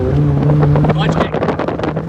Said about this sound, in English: Clutch kick.